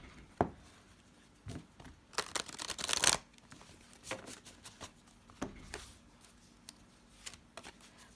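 Power Animal Oracle cards are shuffled and handled close by, making soft papery riffles and taps with a louder flurry in the middle, in a quiet room.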